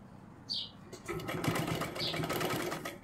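Domestic sewing machine stitching piping into the neckline of a 38-size four-tuck blouse, a steady mechanical whir running through most of the clip, loud and close, with two brief high chirps over it.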